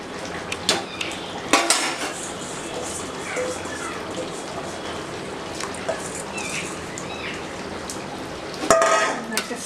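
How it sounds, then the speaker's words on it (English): A spoon scrapes and clanks against a metal pot while half-cooked rice is stirred for chicken dum biryani, with sharp knocks near the start and end and softer stirring between. "Let us stir it well"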